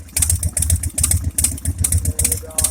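A salvaged Harley Sportster motorcycle engine idles nearby with an uneven, loping pulse of repeated throbbing beats, fairly loud and close throughout.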